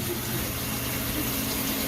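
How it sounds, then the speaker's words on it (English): Water dumping out of a failing residential water heater, a continuous loud gushing rush of liquid heard close up without pause, with no voices. "I'm straight dumping water out of it."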